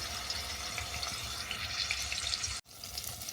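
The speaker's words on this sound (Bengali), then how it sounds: "তেলের মধ্যে মাছটা দিয়ে দিলাম উল্টো পাল্টা বাদামি করে ভেজে নেব" Fish frying in hot oil in a home kitchen, giving a steady, close crackling sizzle with no talk, broken by a brief dropout near the end.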